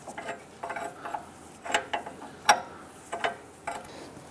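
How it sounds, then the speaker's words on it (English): A 22 mm wrench tightens the upper ball joint nut on a 2002-2008 Dodge Ram 1500, making a series of light metallic clicks and ratcheting ticks, close and fairly quiet. "use our 22 millimeter wrench and go ahead and tighten down the upper ball joint"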